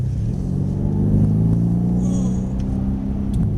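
A Mercedes-Benz accelerates away on a driving track, its mid-pitched engine note droning steadily and close, rising slightly as it pulls away.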